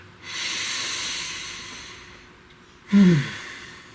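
A long, slow breath drawn in and released during a guided meditation before a tarot card reading, followed by a sharper, louder exhale near the end; close and airy with no talking.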